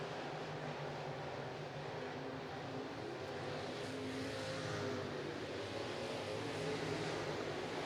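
Late model race cars racing at All Tech Raceway, a continuous dense roar of several engines blending into a steady wash of noise with no pauses, heard from a distance without clear individual pass-bys.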